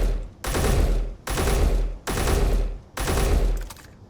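A rifle in Space Engineers fires in four loud, close bursts of rapid shots, each lasting about a second and separated by short pauses, with no voices over them.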